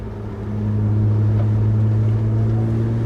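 BMW 1M with aftermarket modifications, its engine droning steadily from inside the cabin, a low continuous hum that rises slightly in level after the first half second and holds at a cruising tone.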